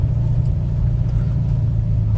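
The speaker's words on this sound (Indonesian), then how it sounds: "Dan ini mesin boxer." Toyota FT86 Rocket Bunny V3 with its boxer engine idling, a steady loud low rumble holding even throughout with no revving, heard up close and alone.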